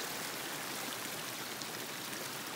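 A spring creek swollen with snowmelt rushes through the hills of Southern Kananaskis in the Rockies. It makes a loud, continuous, close-up wash of flowing water with no pauses.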